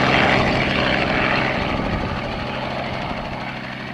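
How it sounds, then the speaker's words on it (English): A loud, steady helicopter roar with a broad rotor and engine wash on Punchbowl Glacier near Girdwood, Alaska, slowly fading a little as it continues, no voices over it. "because of the helicopter"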